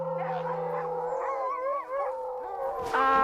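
Huskies kept by a family on the wild shore of a lake raise a close chorus of wavering, overlapping howls, with pitches sliding up and down and a sharper yip near the end.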